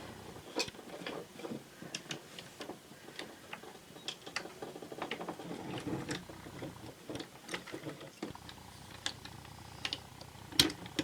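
Small plastic and metal parts click and ratchet as a gear is pushed onto the shaft of a refurbished Botoy Saturn toy robot, with close, irregular ticks and taps scattered across a quiet background.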